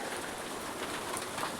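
Steady morning rain in the Konkan countryside during the Vat Purnima festival, a soft continuous hiss of falling drops that stays even and fairly faint throughout, with no voices.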